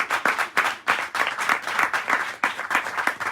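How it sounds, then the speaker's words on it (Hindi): A church congregation claps in praise of Jesus Christ, a dense, steady run of many hands clapping in close rhythm, loud and continuous throughout without any speech. "ताली बजाइए यीशु मसीह के नाम के लिए"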